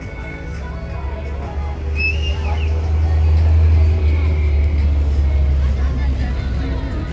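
An engine rumbles low and loud at a drift festival, the revs swelling and holding as the car works the course, with crowd chatter and voices in the background.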